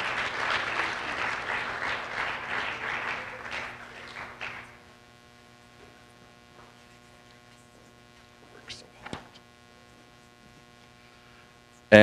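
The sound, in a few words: audience applause at sports banquet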